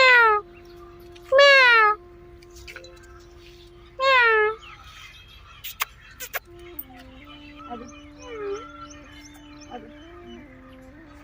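A pet cat wearing a bell on its collar meows several times, loud and close, in drawn-out rising-falling cries, with small jingles and soft human speech in between.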